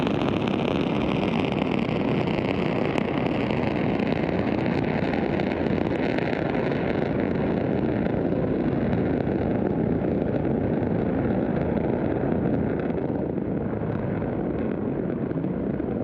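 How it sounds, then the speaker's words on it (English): Sustained, dense roar of a SpaceX Falcon 9 Block 5 rocket climbing away from Space Launch Complex 40 at Cape Canaveral, Florida, broad and steady throughout with a rumbling low end and wind buffeting, no voices. "Falcon 9 has successfully lifted off from Space Launch Complex 40 at Cape Canaveral Space Force Station in Florida"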